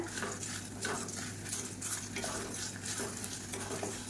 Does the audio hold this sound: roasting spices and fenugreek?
yes